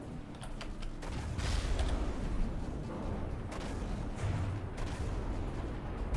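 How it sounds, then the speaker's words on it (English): A dense barrage of missiles firing in the game From the Depths, loud continuous rumbling booms and mechanical creaks filling the whole stretch with little letup. "Oh, that is a lot of missiles."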